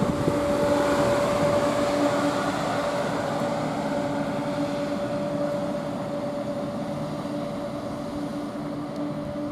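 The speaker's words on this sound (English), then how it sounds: "now leaving, we have got 170-117 heading to Cardiff Central" A Class 170 diesel unit, 170-117, pulling out of Tamworth station with a steady engine drone and a sustained tonal whine, loud at first and gradually easing as it moves off, with no voices.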